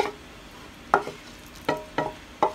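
Short wet scraping scoops of cooked pasta lifted from a pot, four distinct clinks and slops spaced irregularly, close and moderately loud with quiet between.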